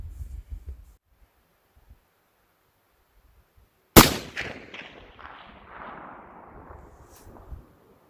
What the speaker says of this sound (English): So let's try to take a shot, see what happens, and correct if need be.